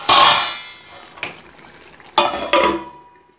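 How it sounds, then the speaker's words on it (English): A lid placed over a pot of Malabar chicken biriyani gravy to cook, with a loud metallic clatter at first, then two more clanks, close and without talk. "Now let's cover and cook for another 10 minutes."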